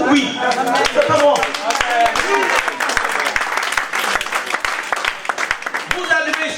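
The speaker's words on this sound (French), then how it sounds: "applaudissez pour lui." A church congregation claps in a sharp, irregular patter that runs steadily throughout at close range. Voices and speech sound over the clapping.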